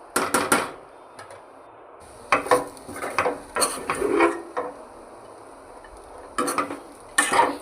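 Broad bean masala curry stirred in a pan, with a spoon scraping and clinking against the metal in several separate bursts, fairly close, amid faint background hiss and no talk.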